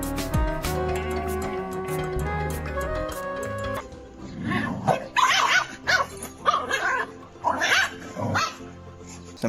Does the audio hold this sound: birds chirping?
no